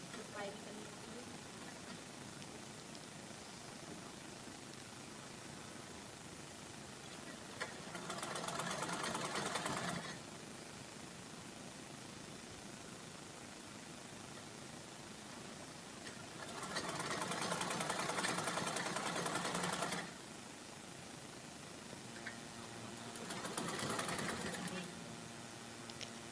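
A sewing machine runs a blouse hem in three separate bursts, each several seconds long, standing out against a quiet background, with soft speech in the gaps.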